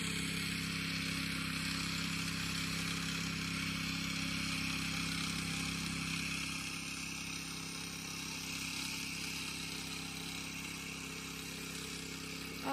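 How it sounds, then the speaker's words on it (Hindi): A tractor engine drones steadily while ploughing a hillside field in a mountain village, a continuous mid-distance mechanical hum with no voices over it. "तो ये देखो इस तरह से ट्रैक्टर से हल लगाया जाता है पहाड़ों में।"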